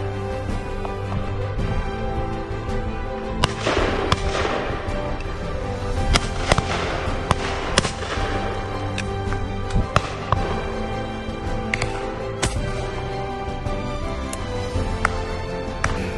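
Shotgun shots at driven partridge on a shoot at Willey Park, several sharp reports scattered over steady outdoor background, some close and loud, others more distant, with no talk.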